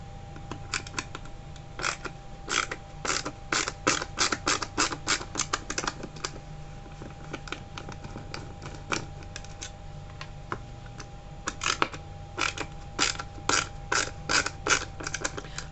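Screws on a Bosch M744 engine ECU case being undone with a T15 Torx bit, a long run of close, clicking ratchet-like ticks in uneven bursts over a steady background hum.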